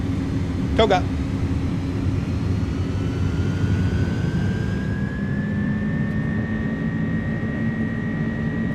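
The iniBuilds A300's jet engines run at takeoff power in MSFS2024, producing a loud, steady roar with a rising whine, broken briefly by a short click near the start.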